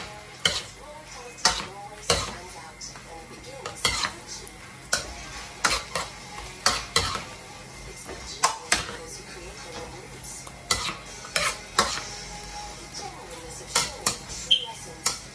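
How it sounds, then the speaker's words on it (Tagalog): Beef and young corn stir-fry being stirred in a pan: a soft sizzle under repeated sharp utensil clacks and scrapes against the pan, coming every second or so, close by. "Haluin lang natin."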